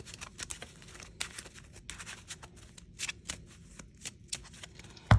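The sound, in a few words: shuffling a deck of Yu-Gi-Oh! cards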